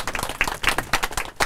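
An indoor audience at a diet lecture claps in a short, lively burst of applause, many hands together at moderate volume.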